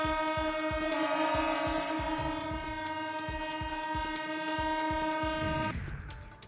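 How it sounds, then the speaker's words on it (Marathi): A Mumbai local train's horn sounds a long, loud, steady blast at CSMT station at midnight on New Year, with rail clatter underneath; the blast cuts off near the end. "CSMT स्थानकावरती मध्यरात्री 12 वाजता लोको पायलटनं लोकलचा हॉर्न वाजवत दणक्यात नवीन वर्षाचं स्वागत केलंय."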